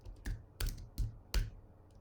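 Keystrokes on a computer keyboard while working in Alpine Linux 3.16, four distinct clacks spaced about a third of a second apart, close and fairly quiet with no voices.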